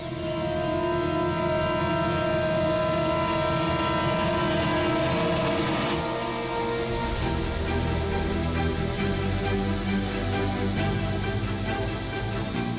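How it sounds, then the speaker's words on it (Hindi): A drone carrying a diamond pouch flies off with a steady, loud, buzzing motor whine that holds throughout, slightly shifting in pitch as it moves away. "हीरे का पाउच है ना वो इस ड्रोन पे बांध दो"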